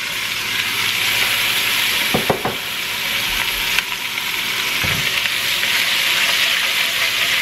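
Cut carrots and onions sizzle steadily in a pot roast pan, a continuous close frying hiss with a few brief clinks and knocks partway through, no voices.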